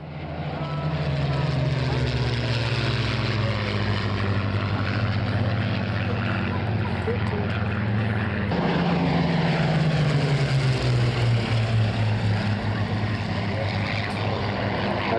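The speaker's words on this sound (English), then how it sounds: "running in from right to left is our commemorative, our own Shoreham commemorative flight, blending the two Spitfires" Two Spitfires of the Shoreham commemorative flight run past at an airshow, their propeller engines droning loudly and steadily with a shifting pitch as they pass, while a commentator's voice is faintly audible beneath.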